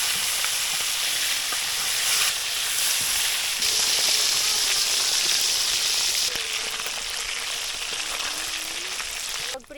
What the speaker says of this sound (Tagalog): Pagprito natin to kababayan, katamtaman lang.